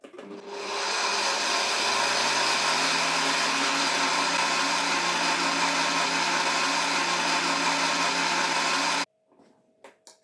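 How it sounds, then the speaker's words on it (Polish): A jug blender mixing pancake batter whirs loudly at a steady high pitch for about nine seconds, then cuts off abruptly, leaving faint clicks and handling noise. "Zamykamy blender kielichowy. Włączam, uwaga, bardzo duży hałas."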